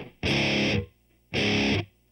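Distorted electric guitar played through a Boss Katana amp with a faint plate reverb, two sustained chord bursts separated by a short gap, loud and close with no voices.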